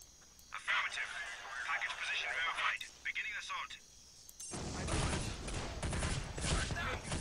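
Gunfire in the video game Counter-Strike Condition Zero Deleted Scenes: scattered shots and chatter-like sounds give way to a loud, dense barrage of rapid firing for the last few seconds.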